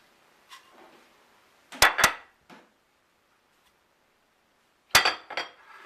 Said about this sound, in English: The next thing we're going to do is graduate to a bigger bowl so that we can mix all of our ingredients.